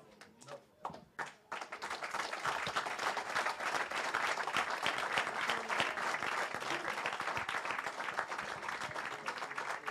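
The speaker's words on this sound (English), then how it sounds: "Let's give another round of applause for that fire class." After a few scattered claps, an audience at a religious gathering bursts into sustained, loud applause that fills the rest of the stretch, dense and even with a few cheers mixed in.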